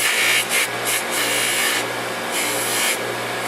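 A polishing wheel buffs a jewelry piece, a steady loud whirring hum with rough, rasping friction that swells and eases as the piece shifts against the spinning wheel.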